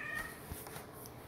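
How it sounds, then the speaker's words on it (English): A domestic cat meows indoors during a mobile game stream, one short faint cry heard alone at low level against quiet room background. "Sorry about my cat, guys. She's going to drive me insane."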